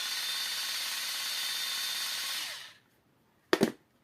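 An electric M416-style toy water gun from AliExpress fires as its motor whirs in a loud, steady high-pitched whine for about two and a half seconds, then winds down. A single brief click-clack follows after a short silence.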